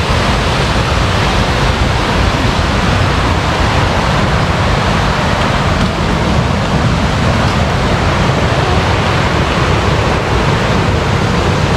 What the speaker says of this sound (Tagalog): Ilog ng Hulugan Falls.